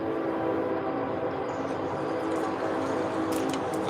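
A train rolling through a few blocks away, a steady, distant rumble with a continuous low roar and no clear beginning or end, unaccompanied by speech.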